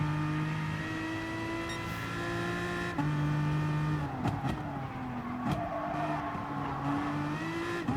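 A Gr.3 race car in GT Sport at Mount Panorama, Bathurst: loud, sustained engine drone shifting pitch through downshifts under hard late braking, with brief tire squeal and skid transients, close and alone.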